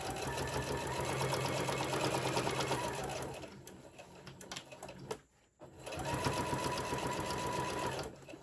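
A sewing machine stitches down the side of a fabric pencil case in fast rhythmic bursts, runs steadily, pauses briefly with a soft clunk, then resumes at the same pace, close and loud.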